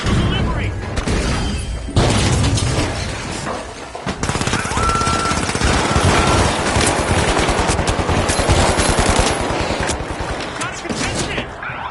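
Gunfire and a frag grenade blast during a team match in the video game The Finals. Dense rapid shooting rattles continuously, with heavy impacts, while players talk over the noise.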